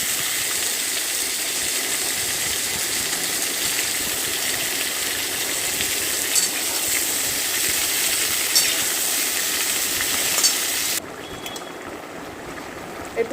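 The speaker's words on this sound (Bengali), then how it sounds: "এবার সবজিগুলো সব দিয়ে দিলাম, সবজিগুলো দিয়ে ভালো করে কষতে থাকলাম" Mixed vegetables stir-fried in a pan for a light Bengali home-cooked dish give a constant close frying hiss, which drops abruptly to a quieter sizzle near the end, with no talk.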